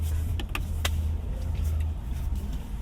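Power-folding side mirrors on a 2025 Kia EV9 GT-Line fold in with a steady low motor hum inside the cabin, punctuated by a few brief clicks, then settle after about two seconds.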